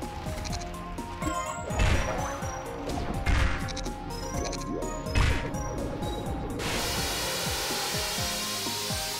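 Glass objects in the game Corn Kidz 64 smash in a series of sharp crashes, with repeated impacts over several seconds and a brief hissing wash near the end.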